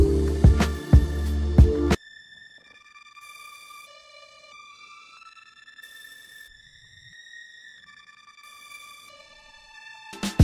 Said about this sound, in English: And I added a gator, lo-fi, modulator, and stretcher